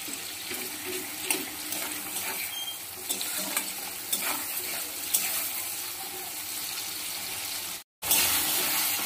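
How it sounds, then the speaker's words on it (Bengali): Tomatoes stirred and softened in a frying pan, a soft steady sizzle with scraping spatula strokes at moderate level, briefly interrupted near the end. "এবার ভালো করে নাড়িয়ে টমেটোটাকে নরম করে নেব"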